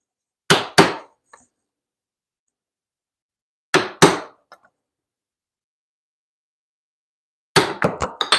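Mallet blows on a chisel cutting a mortise in timber for a timber-framed build: two sharp paired strikes, a long silence, another pair, then a quick flurry of hits at the end, loud and close.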